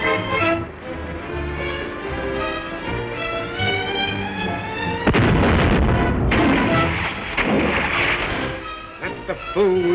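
Gunfire and blasts from a 1936 film serial ring out in a loud, dense volley, with heavy booming bursts crowding the second half over an older, band-limited soundtrack.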